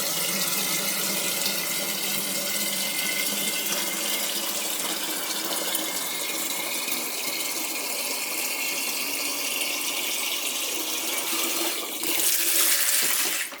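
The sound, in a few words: tap water running into hot water to cool it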